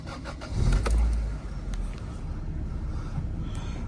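A 1990s Japanese coupe with an exhaust blow cranks and catches, a brief loud start swelling then settling into a steady, rough idle close by.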